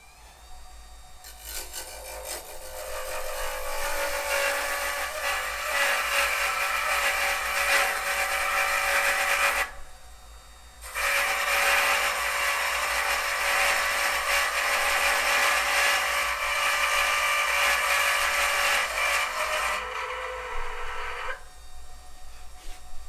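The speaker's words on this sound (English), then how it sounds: "I'm going to turn this down to a certain width in diameter" Wood lathe turning down a ring core blank on bushings, a steady abrasive scraping and whirring sustained for long stretches, with a brief pause near the middle and softer tapering at the end, no voices.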